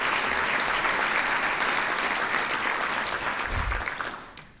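Sustained applause from a breakfast-event audience at an economic development gathering: dense, steady clapping that holds for several seconds, then fades out at the end.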